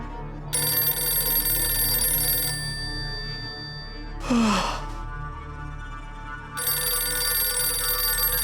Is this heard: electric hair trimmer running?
no